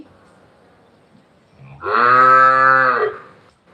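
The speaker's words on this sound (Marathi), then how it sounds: "आमची गाय कशी ओरडत आहे बघा" A single long, loud cow moo, deep and drawn out for over a second, rising out of quiet background with faint rustling before it.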